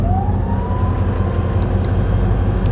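Heater blower fan in a 60-year-old Ford Galaxie runs as a steady, loud, even whoosh inside the cabin, with a faint rising whine near the start and no talking.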